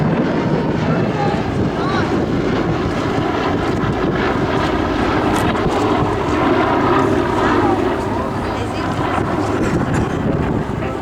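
A World War II bomber passes during a photo pass at a 2012 World War II Weekend, a loud, steady propeller engine drone with wind buffeting the microphone throughout.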